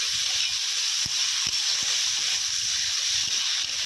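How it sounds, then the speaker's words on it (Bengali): Vegetables for a fish curry fry gently in a pan, a steady soft hiss with a few low knocks and stirring touches, close and even. "ভালোভাবে ভেজে নেব।"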